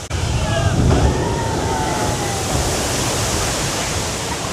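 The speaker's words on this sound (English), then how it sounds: "If you want to get splashed by the water from the ride vehicle, you can do that right here." A theme park ride vehicle at Islands of Adventure throws a heavy splash of water, a loud, broad rushing spray that hits at once and keeps pouring steadily for several seconds.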